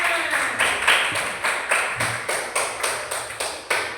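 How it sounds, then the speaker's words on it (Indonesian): Children clapping in class, a rhythmic run of about a dozen evenly spaced hand claps at moderate volume, steady and unbroken throughout. "Bagus, ya tepuk tangan."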